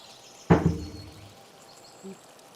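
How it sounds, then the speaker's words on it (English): A die rolled during a tabletop role-playing game: one sharp clatter followed by a short tumbling rattle that dies away, and a faint small knock about a second and a half later, heard up close in a quiet room. "No, that was me rolling a dice."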